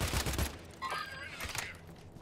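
Gunfire in a Call of Duty match, a quick burst of shots and booms at the start, then fainter distant firing and clatter, with voices speaking over it.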